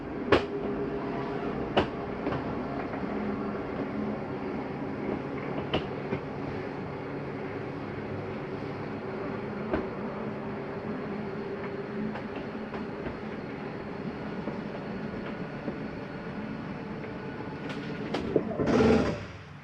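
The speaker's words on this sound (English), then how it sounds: "That's just the slide mechanism saying, hey, I'm all the way in, stop." The slide-out mechanism of a Cruiser MPG 2650RL travel trailer retracts with a steady, moderate mechanical rumble that runs on for nearly twenty seconds. It finishes with a brief louder grinding burst as the slide reaches its stop. No voices are heard.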